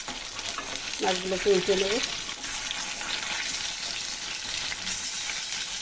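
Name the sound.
hilsa fish pieces frying lightly in a pan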